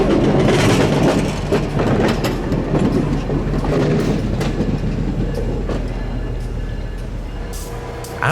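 A CSX geometry train rolls past on the Florida A-Line, a loud, close rumble with rhythmic clickety-clack of wheels over rail joints, gradually easing as the cars pass.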